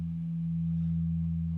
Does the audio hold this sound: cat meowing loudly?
no